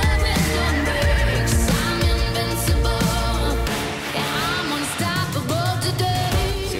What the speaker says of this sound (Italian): Cavalli selvaggi!